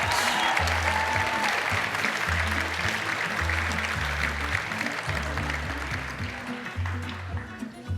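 Sustained crowd applause at a college apparel design fashion show, dense and even for several seconds over thumping runway music, easing slightly near the end.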